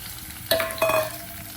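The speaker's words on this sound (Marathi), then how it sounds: "थोडं तेल टाकू आपण आणि हे आलू मस्त आपण फ्राय करू" Potatoes frying in oil in a hot kadai for dum aloo make a soft sizzle, broken by two quick stirring scrapes in the middle of the moment, with no voices.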